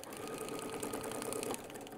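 A sewing machine stitches through bulky crossed seams and layered fabric, a steady, close mechanical whirring drone that runs throughout and drops slightly in tone near the end, with no talk.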